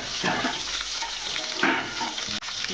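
Stuffed eggplants filled with green chilli masala fry in a pan with a steady close sizzle and faint crackle, and a brief stir or scrape near the end.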